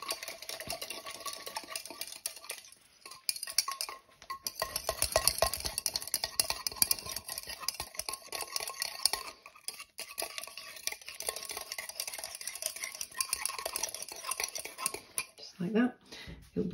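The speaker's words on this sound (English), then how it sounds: "and mix it round very well." A spoon stirs near-boiling water into a jelly soap mixture in a bowl, giving continuous scraping and clinking against the container, close and steady, with brief pauses and a short voice near the end.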